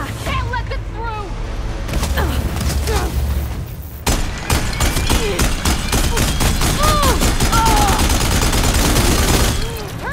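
Rapid gunfire from a firefight in Horizon Forbidden West, with dense bursts and booms that run the whole time, loud and close, while voices talk over the shooting.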